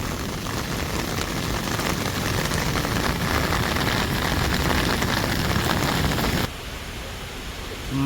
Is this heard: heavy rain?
yes